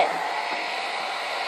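Hair dryer blowing hair, a close steady whooshing motor hum that stays constant without pause.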